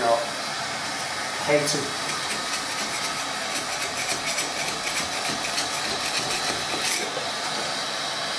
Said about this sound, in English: People think steam strippers are easy to use.